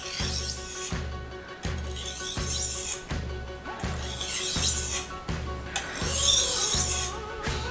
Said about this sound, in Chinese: 那全段式打磨就是像这样子，这样子磨， 这样子就叫全段式打磨。